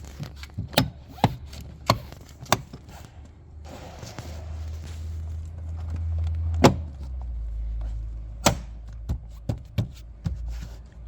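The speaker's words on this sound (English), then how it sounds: "And now the door trim should just all click in." Plastic door trim on a 2006-2013 Holden Commodore VE is pressed back onto the door, giving a series of sharp, close clicks and knocks at irregular intervals, with a low hum beneath them.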